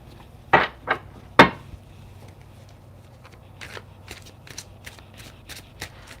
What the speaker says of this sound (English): This deck is so big, it's really hard to shuffle.